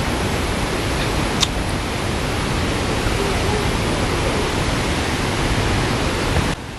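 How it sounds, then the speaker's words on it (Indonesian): Telun Berasap waterfall, fed by Lake Gunung Tujuh, roars as a loud, steady broadband rush of falling water that fills the whole scene without a break. "Dari sini pengunjung bisa memanjakan pandangan dengan menatap air terjun yang nampak indah dibalut rimbunnya pepohonan."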